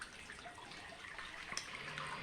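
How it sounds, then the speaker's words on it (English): Water is poured into a crock pot for freeze-dried chicken and rice soup, a faint trickling splash that runs through the short moment without talk. "I'm going to go ahead and throw the water in there"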